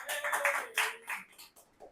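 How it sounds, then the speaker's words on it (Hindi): Brief scattered clapping from a small group at an office roast show, fairly quiet and fading away within a couple of seconds. "जोरदार तालियां प्रतीक्षा के लिए।"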